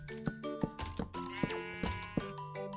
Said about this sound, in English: Okay, now to pen in that sheep.